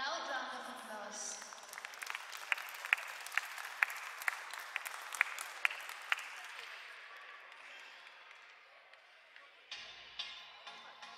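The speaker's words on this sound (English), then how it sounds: "give them a loud round of applause" Applause from an indoor audience after a junior kindergarten dance performance: a burst of clapping with sharp individual claps that swells, then fades to scattered claps near the end.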